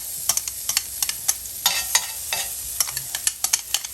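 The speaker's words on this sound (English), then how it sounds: "we're going to add a little bit of chopped garlic" Chopped garlic sizzles steadily in a hot frying pan while chicken Marsala cooks, with a crackling hiss punctuated by sharp bursts of spattering.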